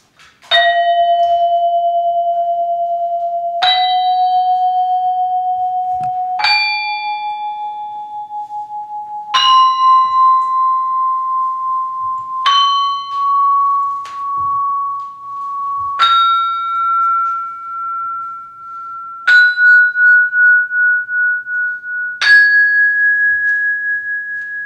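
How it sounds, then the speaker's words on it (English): Tuned bell-like percussion instrument played up a full scale, eight struck notes each rising in pitch and spaced about three seconds apart, each ringing clearly and sustaining alone until the next strike. "Why don't we just play for them the full scale on this instrument?"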